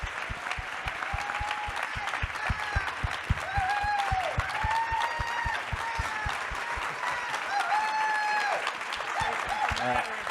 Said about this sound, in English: let's give another round of applause for this great panel